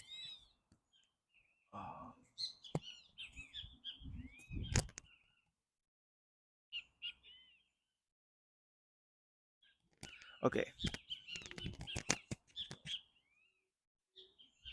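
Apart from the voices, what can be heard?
birds chirping outdoors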